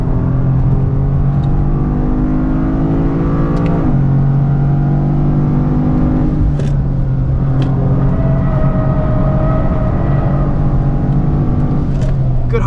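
A 2025 Toyota GR Corolla engine drones with a steady tone, then blips and revs sharply a few times on downshifts, loud and close.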